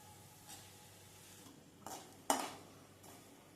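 Quiet stirring of shredded potatoes frying in a pan over a medium gas flame: a few soft scrapes and clinks over a low sizzle, with one sharper clatter midway.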